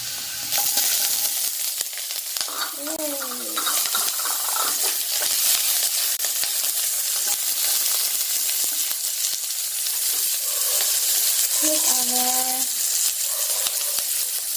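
Onions sizzle steadily in a hot pan for chop suey, a continuous bright frying hiss throughout, with a couple of brief tonal clinks from utensils and no talking.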